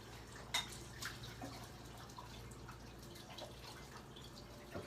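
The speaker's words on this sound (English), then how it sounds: "Got the water turned on nice and hot" Hot water runs from a kitchen tap into a sink while dishes are washed after cooking, a steady low hiss with occasional drips and light clinks, fairly faint throughout.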